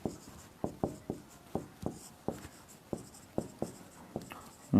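Chalk or marker writing on a board during a chemistry lesson, quiet irregular taps and short strokes a few times per second, close but faint, with no voice over it.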